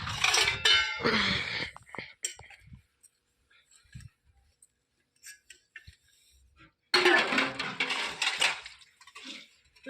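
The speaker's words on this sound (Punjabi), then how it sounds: "ਆਪਾਂ ਮਾਂਜਣ ਲੱਗ ਗਏ ਭਾਂਡੇ" Dishes clatter and clink in bursts at the start and end, with quieter scattered knocks of pots and cutlery in between.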